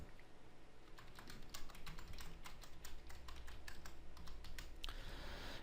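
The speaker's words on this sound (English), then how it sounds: "I'm going to type in Diego de Montemayor" Name being typed on a computer keyboard in a search box, a steady run of close, crisp key clicks with brief pauses, no voices.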